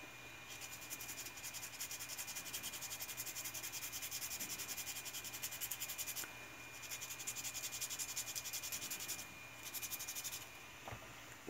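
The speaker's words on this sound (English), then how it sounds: "This is like really, really rough sandpaper." Very coarse sandpaper rubs over a prop wand from Star vs. the Forces of Evil, giving a faint, continuous rasping scrape in steady back-and-forth strokes with no voices.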